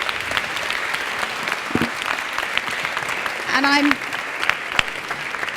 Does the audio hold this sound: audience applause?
yes